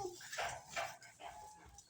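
A dog at a house gives a few short barks and yips, fairly close, while a person calls out and talks nearby.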